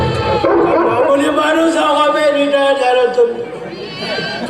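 Whining, howl-like dog cries during a Marathi stage comedy play, drawn out and fairly loud for several seconds, with voices mixed in.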